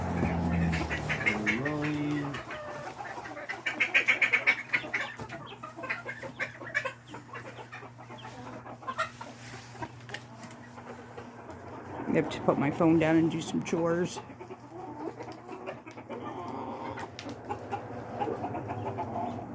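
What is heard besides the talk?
chickens clucking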